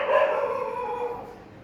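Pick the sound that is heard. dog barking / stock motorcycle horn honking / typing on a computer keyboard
dog barking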